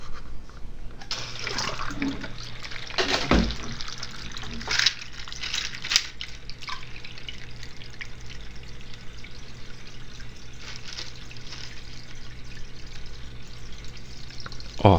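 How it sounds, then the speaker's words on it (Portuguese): A SUNSUN XBA hang-on aquarium filter runs with a steady low pump hum beneath continuous splashing of water falling back into the tank, close and fairly even, with a few louder splashy bursts and no talking. "note que ele tem um barulhinho de bomba, ó. Além do barulho de água caindo"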